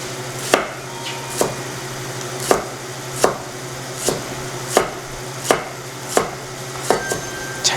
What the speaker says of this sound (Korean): 자, 이렇게 얇게 썰어지거든요